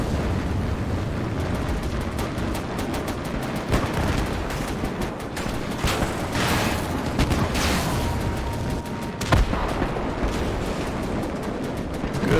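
Artillery waves and gunfire rage in a full-scale Gates of Hell battle with KV-2 tanks and bombers: repeated booming blasts that throw up dirt, sharp shots and rumbling explosions, dense and loud with no pauses.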